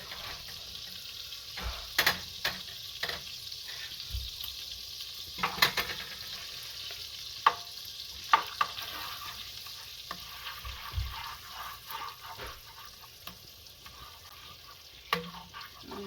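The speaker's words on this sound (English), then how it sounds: "And to this, I'm just gonna be adding my garlic. So just my grated garlic." Grated garlic sizzles in a hot pan for a Jamaican Sunday dinner, a steady soft frying hiss with occasional sharper crackles and stirring scrapes, close and moderately quiet with no talking.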